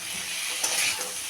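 Cauliflower with potato sizzles in a pan as ground cumin, chili and turmeric are stirred through, a brief close burst of frying hiss with a scrape of the spoon, no talking.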